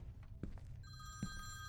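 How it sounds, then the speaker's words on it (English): Telephone ringing in a horror video game set in an apartment: a steady electronic bell tone starts partway through and rings on, faint against a low background hum, with a couple of soft thumps. "Where's this telephone that is non-stop ringing while I'm trying to read this newspaper?"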